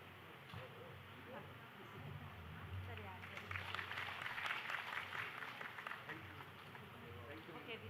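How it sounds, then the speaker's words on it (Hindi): An audience applauds a women's self-help group from Rudraprayag at a state-level government event in Dehradun; the clapping is faint and distant, swelling in the middle and then fading, with a speaker talking over it. "जोरदार तालियों से सभी इनका अभिनंदन करने का कष्ट करें।"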